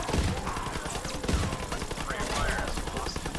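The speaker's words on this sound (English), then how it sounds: "I'm trying to shotgun him for you." Gunfire in Call of Duty WWII Zombies, several sharp shotgun-like blasts in quick succession amid game noise, with a voice talking underneath.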